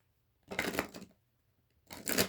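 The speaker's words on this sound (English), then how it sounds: "One more shuffle." Two bursts of papery riffling, a longer one followed by a short pause and a second, brisk shuffle of cards, close and fairly loud.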